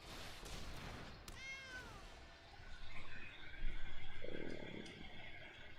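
A cartoonish cat meows with a sliding, descending pitch as a creature card enters play in the digital card game MTG Arena, followed by a swelling magical shimmer and a short rumbling game effect.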